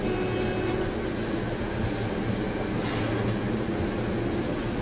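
Class 73 locomotive running on the Chatham Main Line in Train Simulator 2016, a steady rumbling drone with faint periodic rail clicks, continuous and fairly close.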